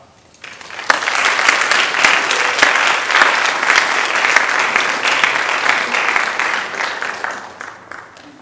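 Audience applause at a school honor society award ceremony as names are called, steady clapping from a crowd that builds quickly and holds for several seconds before tapering off.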